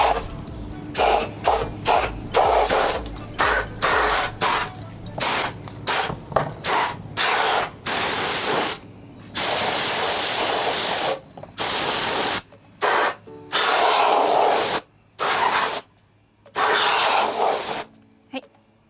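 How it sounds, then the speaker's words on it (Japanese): Air duster spray blowing dust off a W124 headlight reflector: repeated short and longer hissing bursts, close and loud, separated by brief pauses, with no talk over them. "リフレクターは一応エアダスタースプレーで"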